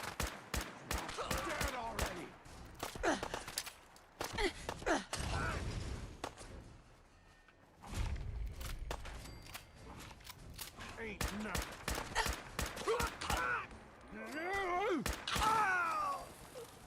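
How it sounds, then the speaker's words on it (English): Gunfire in the video game Fallout 4: sharp bursts of shots crack at irregular intervals, some in rapid strings like a fusillade, mixed with other game sounds and intermittent talking. "Someone's still shooting at us."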